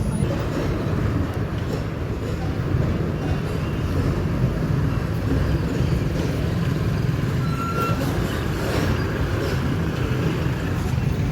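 An MSRTC ST bus pulls away from Sangameshwar depot, its engine a steady low rumble heard from inside the cabin, loud and continuous, with faint rattles on top.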